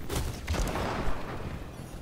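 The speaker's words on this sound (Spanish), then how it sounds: "tres tiros precisos para matar a esos culiados" Rapid gunfire from the Bloody Mary weapon in the sci-fi shooter game Spacelords, a dense burst of shots up front that tapers into lingering noisy rumble over about two seconds.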